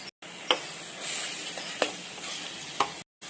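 Ground paste and three puréed medium tomatoes sauté in a pan for spicy crab curry: a steady close sizzle broken by three sharp spoon scrapes while stirring, with no voices.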